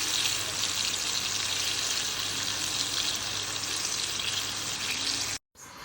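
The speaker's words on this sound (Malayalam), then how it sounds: "തിളച്ച എണ്ണയിലേക്ക് ഉരുളകൾ ബാറ്ററിൽ മുക്കി ഇട്ടിട്ടുണ്ട്" Batter-dipped modakam balls frying in boiling oil give a steady, loud, close sizzle that runs almost unbroken, then cuts off briefly near the end. No one speaks.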